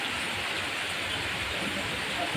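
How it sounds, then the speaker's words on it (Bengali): Heavy rain falls at a madrasa in Satipur Bazar, Jhikargacha, Jessore, a steady, dense roar of drops with faint voices underneath. "দেখেন বৃষ্টির অবস্থা"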